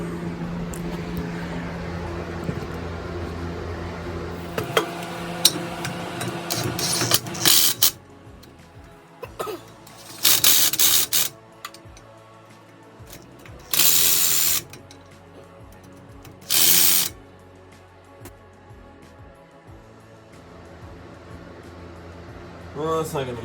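Several short bursts from an impact gun or ratchet snug the wheel spacer nuts on a Toyota Tundra's rear axle, separated by pauses in a garage with a steady background hum and some talk.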